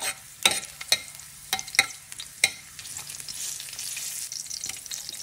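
Shrimp fries in a pan for adobong kangkong with a steady close sizzle, broken early by several sharp utensil clinks as the food is stirred. No voices.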